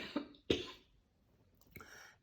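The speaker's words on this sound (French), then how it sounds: "Et là, je tousse" A quiet cough, two short rough bursts close together followed by a softer throat-clearing sound a moment later, faint and close with no talking.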